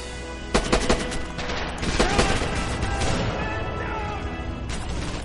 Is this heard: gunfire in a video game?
yes